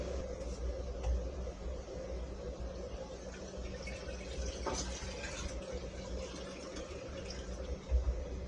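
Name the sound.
filling a fermenter bucket with liquid for home-brewed blackberry wine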